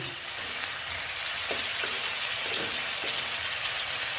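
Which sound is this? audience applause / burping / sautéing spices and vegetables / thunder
sautéing spices and vegetables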